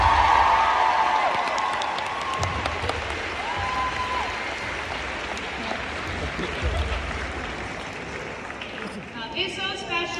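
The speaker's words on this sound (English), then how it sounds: "Let's give Grayson a big round of applause, everyone." An audience at a school event breaks into sustained applause and clapping, loud at first then settling into a steady crowd roar with some cheering, with voices mixed in.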